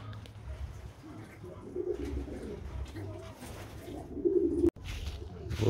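Pigeons coo softly and repeatedly in a low, murmuring rhythm against a background of outdoor ambience on a 34°C summer day in central Poland.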